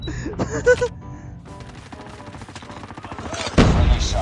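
Chicom gun firing in the shooter game Call of Duty Mobile, rapid close bursts of shots under a voice, ending in a louder blast.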